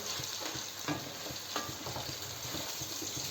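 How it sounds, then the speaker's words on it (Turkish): Turkish sucuk sausage fries in a pan with a close, steady sizzle and soft popping, broken by a few light scrapes of stirring, and nobody speaks. "Hep sucuk iyi kızardı biz öyle seviyoruz"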